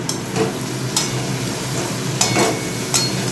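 Spices such as panch phoron crackle and fry in hot mustard oil in a pan, a steady close sizzle with occasional stirring scrapes and sharp spatters.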